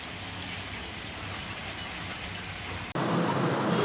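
Sliced onions fry in a large pot of oil for a big batch of chicken dum biryani, giving a steady, dense sizzle that runs throughout and grows louder near the end, with no talking.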